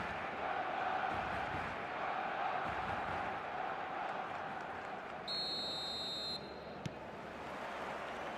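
A steady roar from a stadium crowd in the football video game eFootball fills the scene, with a brief whistle-like tone standing out partway through.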